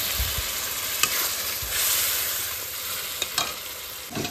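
Fried eggs in a frying curry are stirred in a pan: a steady hiss of sizzling oil with a few sharp spoon scrapes and clicks against the metal, close up and with no voices.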